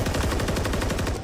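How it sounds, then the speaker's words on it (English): A fast, unbroken hail of automatic gunfire in a competitive Call of Duty match, loud and close, with rapid evenly spaced shots rattling for over a second. "There's the opening hail of gunfire again."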